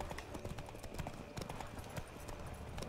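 Horse hooves clip-clop at a steady riding pace in The Witcher 3, close and continuous over a busy game ambience, with no talk.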